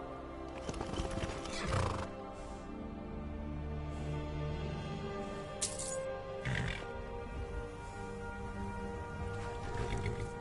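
In the video game The Elder Scrolls V: Skyrim, a horse whinnies loudly a few times amid clopping hooves and rattling, with a low steady background hum throughout.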